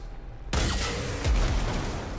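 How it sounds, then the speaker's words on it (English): Explosions from a video game boom in as a sudden loud burst, followed by a sustained rumbling, crackling blast that keeps going to the end. "explosion variants right there"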